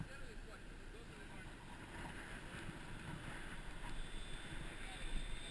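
A boat motor runs on the water near Rockledge, Florida, a steady low drone mixed with wind rush and water wash, continuous and moderately distant.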